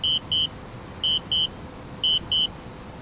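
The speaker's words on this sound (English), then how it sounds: "I don't want to make you listen to the beeping for the next couple minutes" A DJI Spark drone controller repeats pairs of short, high electronic beeps at a steady rhythm, three double-beeps in all, against a faint low background hum.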